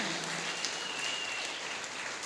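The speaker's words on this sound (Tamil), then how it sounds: "ஐயா அவருக்கு நல்ல ஒரு முறை கைத்தட்டுங்க" A literary gathering audience applauds an author standing in the hall, a soft, distant, continuous patter of clapping heard at low level.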